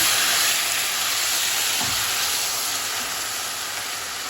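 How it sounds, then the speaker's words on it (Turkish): Chopped tomatoes hitting a pan of frying onions and garlic for shakshuka, giving a steady, even sizzle and hiss that holds throughout without talk. "Şimdi doğradığımız domatesleri ilave ediyoruz"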